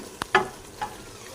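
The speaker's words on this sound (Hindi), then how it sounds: "तो 4 से 5 मिनट तक इसे अच्छे से भूनेंगे। तो कीमे की भुनाई ज़रूरी है" Minced keema fries in a pan, with a quiet sizzle under two or three quick stirring scrapes and taps, close and brief.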